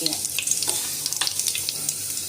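Sliced onion hitting hot oil with bloomed whole spices for egg pulao, giving a close, steady hiss and crackle with small bubbling pops spread evenly throughout.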